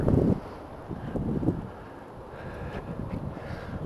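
Wind buffets a microphone outdoors near an AM radio transmitter site, a low rumbling roar that is loudest in a gust at the start and then continues as a softer, uneven blustering.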